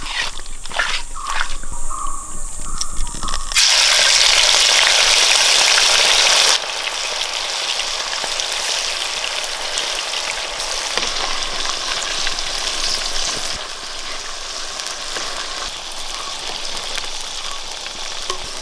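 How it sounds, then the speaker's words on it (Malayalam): Chicken kondattom marinated in chicken masala fries in hot coconut oil with a loud, continuous sizzle, growing sharper as the pieces are stirred, then settling to a steadier crackle. "ഇതിനെ വറുത്തെടുക്കാം."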